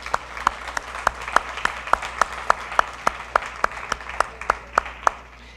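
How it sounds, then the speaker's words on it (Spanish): Applause at a church service in honour of the Lord, heard as steady, evenly spaced claps from a small congregation, moderately loud and fairly close, with no talking over it. "Démosle un aplauso al Señor"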